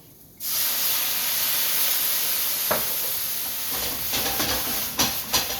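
Stock heating in a pan for chicken saltimbocca to cook off the alcohol gives a steady close hiss and sizzle, with a few soft bursts of bubbling spatter near the end.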